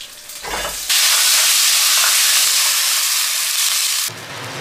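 Fish maw with scallion, ginger, garlic, Sichuan peppercorns, dried chilies and star anise hits hot oil in a pan, bursting into a loud, sustained sizzle for about three seconds after a brief clatter, then cutting back to quieter cooking noise.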